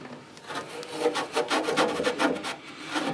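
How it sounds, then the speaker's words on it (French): An old rag wiped over sheet metal with a common metal degreaser, close, rhythmic rubbing strokes that swell and fade in quick succession without talk. "pour dégraisser, j'utilise un dégraissant métaux classique, on va dire, enfin rien de particulier, qu'on trouve un peu partout, un vieux chiffon, et puis on va passer ça"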